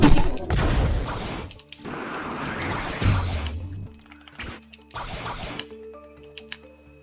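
Waterfall water in the Roblox game Blox Fruits comes through as loud splashing, rushing liquid in several long bursts, with drips and squishing sounds in the quieter gaps between them.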